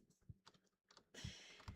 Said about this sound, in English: Are my typing sounds low-key vibes?